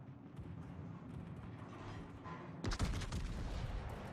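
Heavy guns of the Tier IX Navarin warship fire in a naval combat video game: a sudden, forceful salvo boom midway, rising out of a low background rumble and trailing into a roaring tail.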